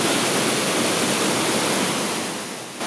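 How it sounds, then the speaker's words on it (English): Shannon Falls waterfall, a steady broadband roar of falling water that stays close and loud throughout with no voices, easing slightly near the end. "These water features are only a fraction of how many are actually here at Shannon Falls."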